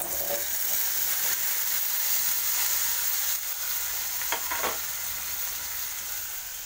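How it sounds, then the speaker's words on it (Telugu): Cut vegetable pieces are tossed and stirred into a hot tempering in a pan, giving a loud continuous sizzle with faint scraping from the stirring. A few sharper clicks from utensils stand out near the end. "ఈ ముక్కలు వేసేసి ఈ విధంగా కలుపుతున్నాను చూడండి"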